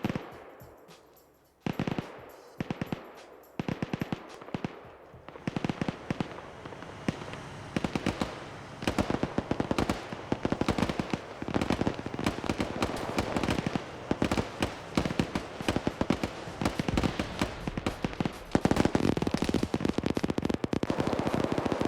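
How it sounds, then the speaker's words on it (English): Dense, continuous video-game gunfire sprays in crossfire, rapid automatic bursts and sharp single shots crackling without pause, loud and busy throughout. "I do see a lot of bullets just getting sprayed in various directions here"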